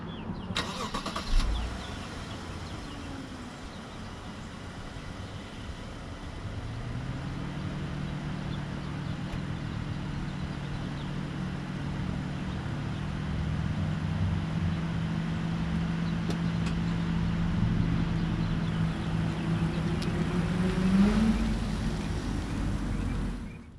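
A 2020 Lexus LS500 starts up with a brief crank and catch, then settles into a smooth, quiet engine hum that swells gently as the car pulls away and drives on the road.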